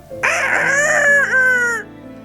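A comedian on stage imitates a rooster crowing with his voice, giving one loud, drawn-out cock-a-doodle-doo with a wavering, rising and falling pitch, near and alone.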